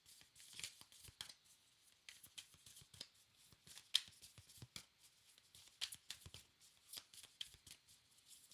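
Oracle cards being shuffled by hand for a full moon reading: a steady run of soft, quick riffling clicks and slaps, quiet and close, with no talking.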